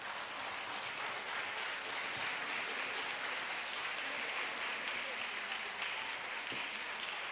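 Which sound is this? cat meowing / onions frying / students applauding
students applauding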